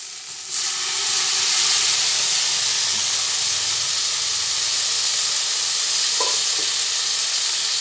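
Pressure-cooker-boiled potatoes go into a hot pan of spices, a loud sustained sizzle and steamy hiss swelling after the first moment, with a couple of faint utensil taps near the end.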